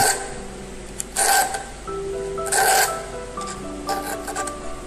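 A hand file rasps across the teeth of a veneer saw blade in short, scraping strokes, several distinct bursts close up and fairly quiet, with no talking.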